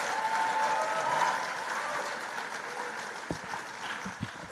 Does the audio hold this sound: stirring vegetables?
no